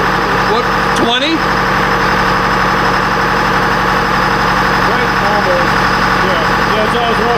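An electronic Detroit Diesel 453 engine on a dynamometer, running loud and steady with a dense, throbbing drone throughout, while voices come through faintly underneath.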